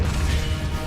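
A Confringo blasting curse lands in Hogwarts Legacy with a short, loud crashing impact, a single dense burst lasting under a second.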